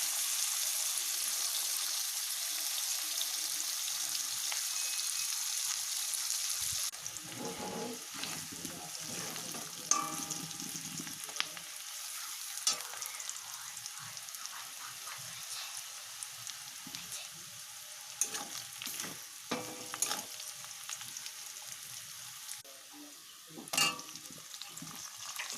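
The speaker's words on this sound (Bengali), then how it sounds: "তেজপাতা পেঁয়াজ দিয়ে দিয়েছি। পেঁয়াজটা ভাজা হয়ে গেলে" Onions and bay leaves frying in oil in a pan for a Bengali chicken curry, a steady close sizzle with scattered crackles and occasional stirring scrapes, no talking.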